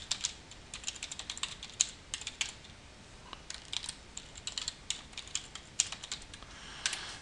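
Quick, fairly quiet clicking on a computer keyboard as an email address is typed in, uneven bursts of keystrokes with brief pauses between them.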